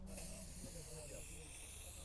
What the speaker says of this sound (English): A nice silicone spray, and you simply go around your awning channel,